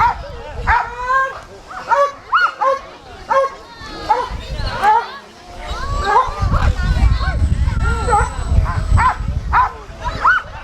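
Several police K9 dogs bark and yip excitedly at an outdoor community crime-prevention demonstration, the barking loud, close and rapid, overlapping over crowd noise and voices.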